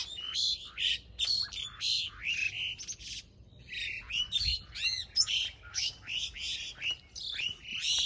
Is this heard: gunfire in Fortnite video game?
no